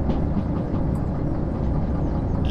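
A fast train roars past in Derail Valley, a loud, steady low rumble of rolling wheels and engine noise that holds throughout without a break.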